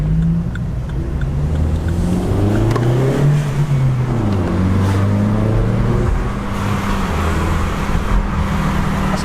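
A Vauxhall Corsa 1.4 Black Edition fitted with a Cobra exhaust drives along, its engine droning and rising and falling in pitch through gear changes, recorded from inside the car with a steady rumble of road noise and no talking.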